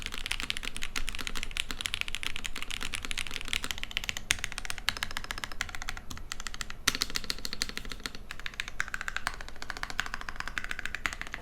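Someone types on a loosely assembled Andromeda TKL keyboard with screws not fully tightened, giving a continuous, fast clatter of close keystrokes with a rattly quality and no talk.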